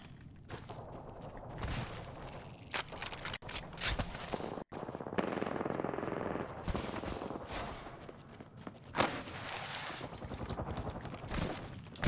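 Rapid bursts of light machine gun fire from a Spitfire in Apex Legends, sustained rattling volleys with short gaps and scattered footsteps, played at moderate loudness.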